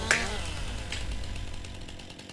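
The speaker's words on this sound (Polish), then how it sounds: "zetniemy sobie jedno drzewo, chociażby takie małe, mniejsze" Chainsaw cutting a small tree in the video game Farming Simulator 19, a sharp impact at the start, then a steady buzzing whine held for a couple of seconds, fairly loud and alone.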